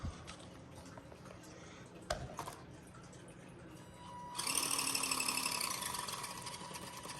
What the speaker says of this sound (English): There is a rub on the front drive shaft.